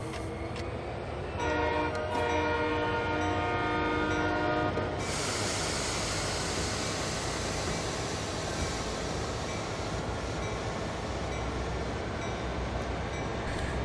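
In Train Sim World 2, a roughly 1,275-ton train sounds a loud horn blast, then pulls away with a dense, continuous rumble and rail noise that stays steady and close.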